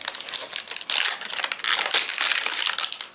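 Sealed retail packaging of a Nokia XL phone box, wrapped in hard plastic, crackles and crumples loudly as it is torn open, in dense, continuous bursts close by with no talking.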